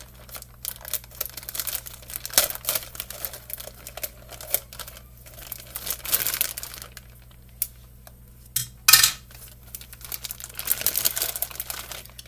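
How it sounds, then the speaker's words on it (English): Plastic cooking bag holding a cooled, bag-roasted turkey being cut open, with close crinkling and crackling of the plastic in irregular bursts and a few sharper rustles, low hum underneath, no talking. "I'll cut the bag and reveal"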